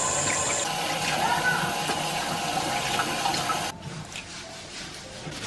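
Running tap water splashes steadily as blood clots are rinsed off a fresh red eel in a kitchen sink, the flow loud and continuous before dropping to a softer trickle near the end.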